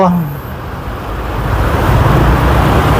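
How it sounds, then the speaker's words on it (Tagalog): Road traffic noise, a loud continuous rumble of passing cars and motor vehicles swelling slightly toward the end, with a brief voice at the very start. "oh bakit traffic dito"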